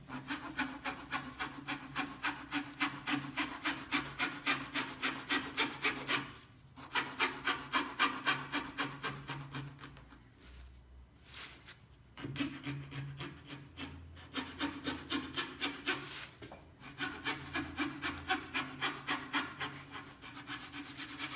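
A fine 0/0 marquetry fretsaw cuts a stacked wood veneer sandwich moved against the blade, giving a close, steady rasping rhythm of quick strokes in long runs, broken by a few short pauses, with no voices.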